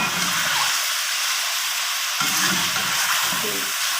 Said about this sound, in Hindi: ये डीप फ्राई हो जाता है तो हम इसमें से ऑयल निकाल लेते हैं